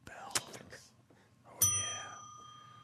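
A bright game-show-style bell dings once, clear and ringing out with a long fading tail, after a few short clicks and brief talk from men in a radio studio.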